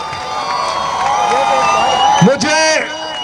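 A large crowd at a PTI political rally in Islamabad cheers and whoops, with excited shouts rising into a loud burst midway, while a voice speaks through the noise.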